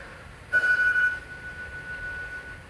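A phone rings once in an indoor room, a single steady electronic tone that starts sharply and fades slowly, heard alone with no voices.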